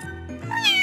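A cartoon cat meows in the Power Girls Super City superhero game, a single short plaintive mew that swells in pitch toward the end, heard alone with no talking.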